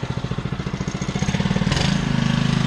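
A Honda lawn mower engine idles at standard factory revs, a steady rhythmic chugging putter close by that shifts to a smoother, higher drone partway through.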